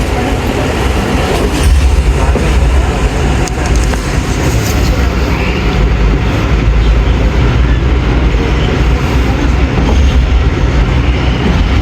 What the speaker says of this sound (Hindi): गुजरखान से डिपार्चर हो रहा है हमारी 40 डाउन जाफर एक्सप्रेस का